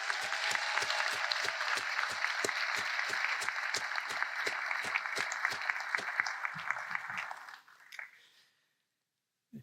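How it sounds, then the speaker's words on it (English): A large audience at a medical school graduation ceremony gives sustained applause, a thick, even wash of clapping that tapers off near the end into quiet with a few stray claps. "So please join me in a round of applause for this class and its president."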